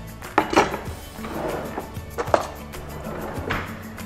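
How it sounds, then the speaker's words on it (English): Knife slicing through avocado on a cutting board for a salad, a few sharp knocks and cuts against the board over a kitchen background, close and fairly loud, without talk. "Now we're gonna slice some of these avocado, and we're gonna layer it in the salad."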